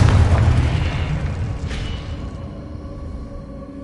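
A Confringo blasting spell in Hogwarts Legacy goes off as a single loud, close explosion that booms at once and then rumbles away over a few seconds.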